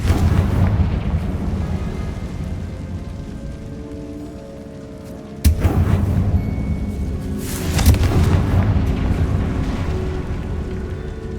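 Hogwarts Legacy spell blasts from Bombarda and Confringo: a sharp crack-like explosion midway, then a second booming burst about two seconds later, over a steady rumbling ambience.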